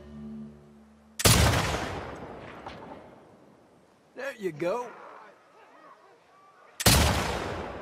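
Two loud, sharp rifle shots from The Last of Us Part II, several seconds apart, each with a booming echo tail; a voice speaks briefly between them.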